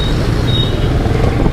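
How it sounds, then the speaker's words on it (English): Street traffic in Ho Chi Minh City, Vietnam: a dense, steady rumble of engines and passing vehicles, loud and close, with no voices over it. "we're headed back out into traffic"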